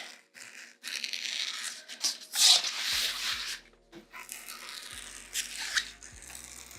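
Scissors or a blade trim excess fabric from a sewn bag in short, close, quiet scraping and cutting strokes with pauses, and no talking.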